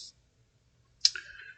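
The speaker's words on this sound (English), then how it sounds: "Let's go ahead and click on this." A computer mouse is clicked once, a single crisp, quiet tick up close in an otherwise silent room, followed by a faint short tail.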